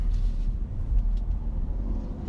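Engine rumble and road noise inside a 2018 Hyundai Elantra Sport pulling away in sport mode, a low steady drone with no distinct revving, heard from the cabin with no talking.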